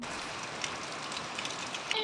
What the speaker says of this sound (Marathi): पाऊस खूप येतोय आणि खूप छान पडतोय